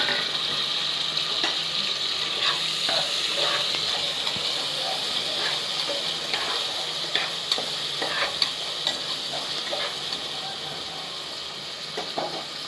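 Two medium chopped tomatoes go into a hot frying pan while making paruppu sadam, giving a steady close sizzle and hiss with scattered stirring scrapes throughout, no talking.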